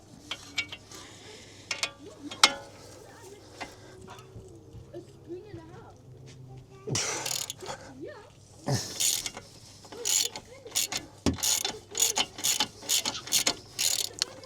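Ratchet wrench removing a bolt from a BMW F40, repeated clicking ratchet strokes growing busier toward the end, close and crisp, with a person talking faintly early on.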